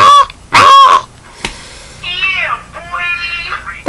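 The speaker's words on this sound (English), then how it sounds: "we were again woke up by those stupid crows" Loud, harsh crow caws in Haiti sound close by in short repeated bursts, followed by a longer run of raspier calls over steady background noise.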